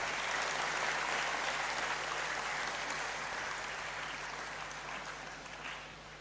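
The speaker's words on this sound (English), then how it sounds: "let me get a round of applause before I begin to welcome you" Sustained applause from a large audience at a university congregation ceremony in a great hall, a steady dense wash of clapping that holds throughout and slowly eases toward the end.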